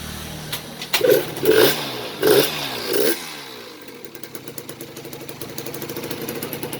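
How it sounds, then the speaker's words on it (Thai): A small motorcycle engine with a 48 mm bore kit, weak battery, kicked over with four sharp bursts before catching and settling into a quick rattling idle, close and fairly loud with no speech. "เดี๋ยวสตาร์ทเท้าก่อนแล้วกัน"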